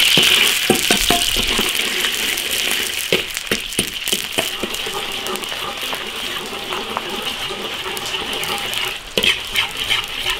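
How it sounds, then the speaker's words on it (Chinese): Sugar syrup stir-fried in a large iron wok, giving a steady close bubbling sizzle with repeated clacks of a spatula scraping the metal throughout. "慢慢炒吧，炒到冒泡。"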